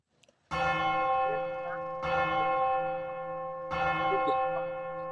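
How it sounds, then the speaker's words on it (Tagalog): A large church bell rings loudly three times, each heavy strike swelling with a rich, lingering metallic hum that overlaps the next. "ang magkapatid na sina Crispin at Basilio ay nagtutunog ng kampana"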